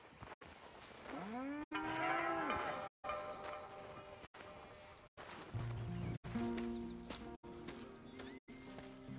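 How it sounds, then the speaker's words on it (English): Several cows moo on a ranch in the video game Red Dead Redemption II, with long low calls, some rising and bending in pitch, heard across short segments separated by brief silent gaps. "Here's the cows."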